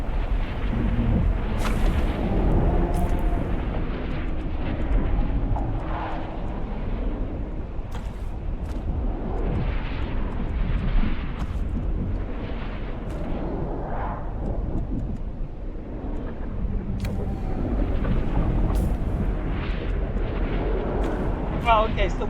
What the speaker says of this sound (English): Decided to explode right now.